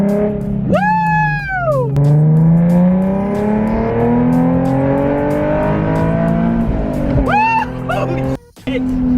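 A Nissan 370Z tuned to 800 horsepower and fitted with an AFE throttle body spacer revs hard, its pitch climbing sharply, then holding a sustained loud drone before a second quick rev near the end; a person whoops over it.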